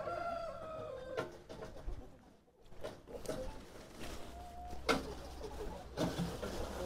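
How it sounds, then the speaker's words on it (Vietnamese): Free-range chickens roaming a hillside farm crow and cluck in scattered bursts at a moderate distance, with a rooster's call rising over outdoor background noise and a voice briefly heard. "gà thả đồi đấy anh em ạ"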